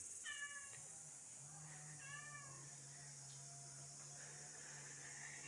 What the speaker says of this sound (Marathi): हे काय काय म्याव म्याव करते मांजर